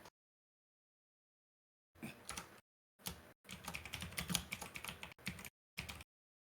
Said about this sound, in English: I'm typing it in now.